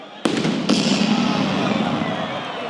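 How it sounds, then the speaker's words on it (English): A sudden loud cannon boom rings out at the start of the Comrades ultramarathon, quickly followed by a second blast, then a long rumbling echo with crowd noise beneath. "And then the cannon goes off."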